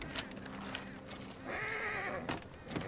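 A horse in the video game Red Dead Online lets out a short neigh midway, over faint hoof clops and background game ambience, with no talking.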